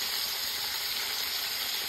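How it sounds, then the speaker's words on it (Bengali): Bhola fish frying in very hot oil, giving a steady, dense sizzling hiss that stays even and close throughout, with no voices. "ভোলা মাছ, ছাকা ছাকা তেলে ছাড়া হচ্ছে।"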